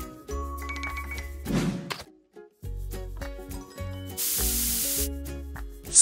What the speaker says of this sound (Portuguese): Spray de spray do cabelo para amaciar o cabelo e facilitar o penteado.